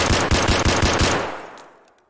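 SKS rifle gunfire in the Escape from Tarkov video game, about six loud shots fired in quick succession, followed by a fading echo tail.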